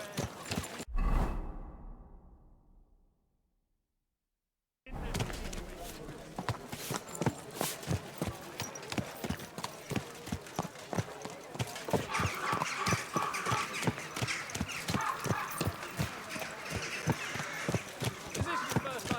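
Horse hooves clip-clop in a steady, fast rhythm while riding in the medieval game Kingdom Come Deliverance II, following a loud impact that fades into a brief silence, with voices talking over the galloping.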